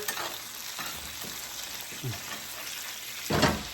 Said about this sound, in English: I have to put it there on top of the steak, and then we baste.